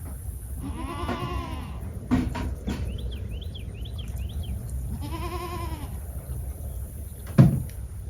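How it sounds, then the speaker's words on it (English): Mini Nubian dairy goats bleat in a pen, two long wavering calls a few seconds apart over faint background noise, with a bird chirping briefly between them and a short bump near the end. "take care of those goats"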